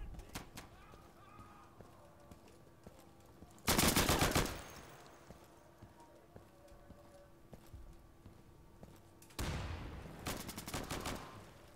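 Two loud bursts of rapid machine gun fire in the video game Insurgency, one short volley early and a longer one near the end, with quieter game ambience and faint distant shots in between.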